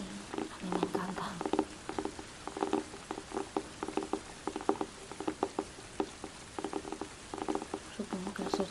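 Soft rain patters in a dense, steady stream of small taps, quiet and close, in a calm relaxation setting with no voice over it.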